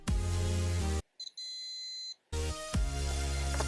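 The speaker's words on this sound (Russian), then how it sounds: "Давайте проверим нашу сигнализацию." A homemade Arduino alarm system gives a clear, steady electronic beep for about a second, then stops. Louder broadband noise comes before and after it.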